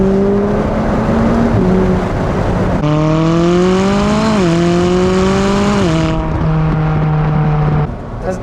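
A 2019 McLaren 570S Spider sports car accelerates hard, its loud engine note climbing steadily and dropping briefly at two gear shifts before pulling upward again, then easing off at the end.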